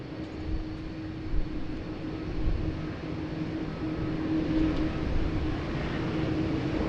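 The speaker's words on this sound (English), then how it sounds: "the Qantas 7531 to Hong Kong's got its marching orders heading around to the Alpha 1 holding point" A Qantas airliner taxiing toward the Alpha 1 holding point at Sydney Airport in heavy rain, a steady distant engine drone with a low hum under a constant wash of rain, no speech.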